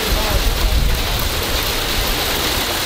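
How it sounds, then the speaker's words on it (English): Steady, dense patter of hail or heavy rain during a severe thunderstorm, a loud continuous hiss and rattle on surfaces with no break throughout. "This is hail."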